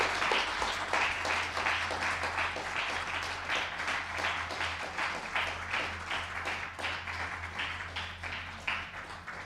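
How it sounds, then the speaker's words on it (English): An audience claps steadily at a multi-faith tribute event, a dense, fairly distant wash of applause with a low hum underneath, lasting throughout. "Let's give a big hand of applause."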